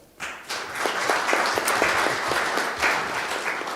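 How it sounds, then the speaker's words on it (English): Audience applause at a central bank monetary policy announcement, starting abruptly and sustained as a dense, fairly loud clatter of many hands clapping. "Can we please give the Governor, Deputy Governors, and MPC members a big round of applause?"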